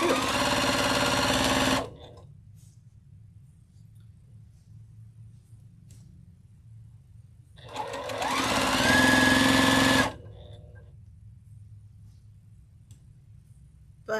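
A sewing machine stay stitching around armholes to keep fabric from stretching, two loud running bursts of close motor whirr separated by a quiet stretch, with a faint low hum between and a brief spoken word.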